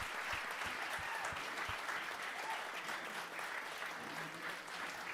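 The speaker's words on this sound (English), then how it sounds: "please give them another big round of applause" Enthusiastic applause from a large crowd at a grand opening celebration, steady and sustained, filling the room throughout with a few sharper individual claps standing out early on.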